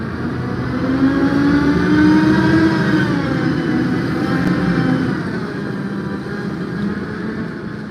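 Loud road traffic with a car engine revving up, a steady, continuous roar of nearby vehicles that swells and then eases slightly, with no talking.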